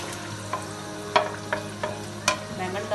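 Eggplant fries in oil in a pot for achari baingan, with a low steady sizzle punctuated by several distinct clacks of a spoon against the pot, roughly every half second, close and without speech.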